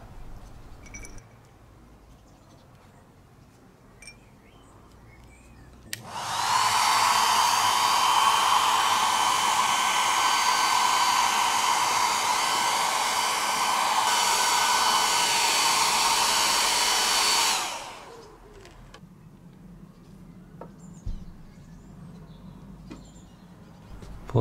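A hair dryer blows steadily and loudly for about twelve seconds, drying rinsed nuts and bolts being blackened for an AC 2 Litre Saloon, with quiet handling noises before and after.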